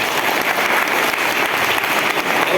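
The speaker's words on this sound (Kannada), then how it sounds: "ಜೋರಾಗಿ ಚಪ್ಪಾಳೆ ಮಾಡಿ." Loud, sustained applause from a crowd at a celebration of a 108-day vegetarian rally, dense and even throughout with no voices over it.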